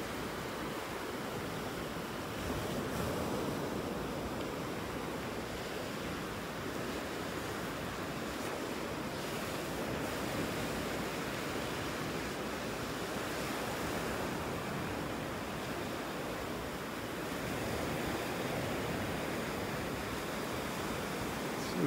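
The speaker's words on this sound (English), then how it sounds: "Pretty much impossible to see with the waves." Rough surf rolls continuously onto the beach at Delnor-Wiggins in North Naples, Florida, a steady loud wash of breaking waves with some wind rumble and no voices.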